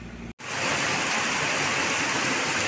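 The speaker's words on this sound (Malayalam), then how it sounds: "ഒടുക്കത്ത മഴയാണ്." Heavy rain pours at night at a petrol pump on a road trip near Udupi, Karnataka. It is a dense, loud, steady downpour that starts after a brief gap and continues unbroken.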